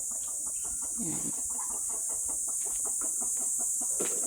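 Backyard domestic chickens on a farm lot cluck in short, repeated bursts at moderate distance over a constant high hiss, with a brief spoken word.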